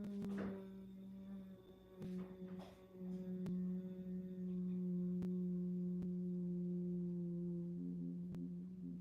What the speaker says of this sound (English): now breathe out with a humming sound